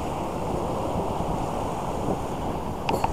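Sloppy ocean surf on a Southern California beach, a steady close roar of breaking waves and wash mixed with wind noise, with no voices.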